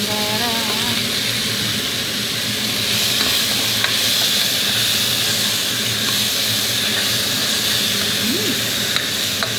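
Tomato paste sautéing with okra in a hot pan gives a steady, close, continuous sizzle and hiss, with faint stirring scrapes throughout and no talking.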